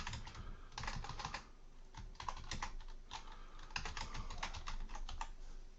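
Rapid keystrokes on a computer keyboard entering a job name in CAM software, close and clear in short bursts with brief pauses between them.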